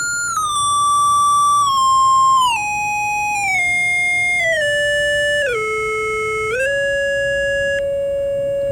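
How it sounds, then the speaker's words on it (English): A synthetic electronic triangle wave tone with soft overtones, held steady and loud, stepping down in pitch through several stages before jumping back up; no voices. "a triangle wave, and it's sort of in between."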